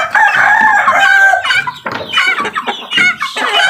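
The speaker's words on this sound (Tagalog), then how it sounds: "ito ay lahat mga manok" Chickens and a rooster on a backyard poultry farm, loud and close, with repeated crowing and clucking calls in bursts, no talking.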